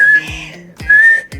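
Three short whistled tones, two of them sustained and steady, separated by brief breathy clicks, made up close by a person breathing in while whistling.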